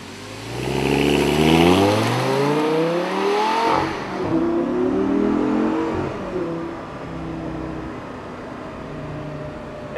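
An Audi R8 GT pulls onto a road circuit, its engine loud and close as it revs up through rising pitch, then eases into a steadier drone as the car moves away.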